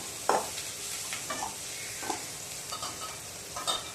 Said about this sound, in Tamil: சின்ன வெங்காயம் கருவேப்பிலை சேர்த்து வதக்கி விட்டுக்கலாம்